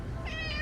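A cat gives a single short meow, close and fairly loud, over a low background hum.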